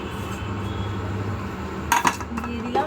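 Fried cumin-coriander spice being stirred in a cooking pan, a low steady sizzle broken by a few sharp metallic scrapes and clinks of a spoon against the pan near the end.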